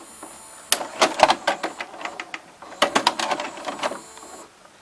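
Small plastic gears of the cassette carriage in a Symphonic SL2940 VCR click and clatter in a series of quick mechanical bursts, nearby and moderately loud, with a brief pause midway.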